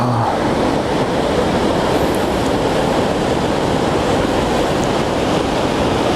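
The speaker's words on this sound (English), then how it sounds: "They are pretty, but they're not much of a waterfall." Dagger Falls, a modest low-flow waterfall, produces a steady, continuous broadband rush of falling water, unbroken and fairly loud throughout.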